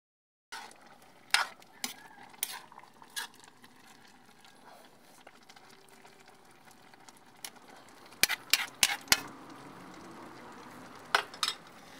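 Pechay (bok choy) sautéing in a pan over a wood fire, with a soft steady sizzle underneath and scattered sharp clinks and scrapes of a utensil stirring against the pan, louder in a quick cluster near the end.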